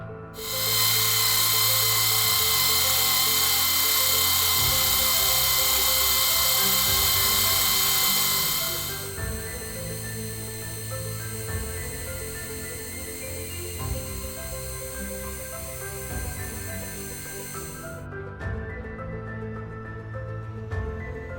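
A mini lathe whines with a steady high-pitched grinding as it faces metal for a machinist hammer, then continues at a lower, duller hum until it stops.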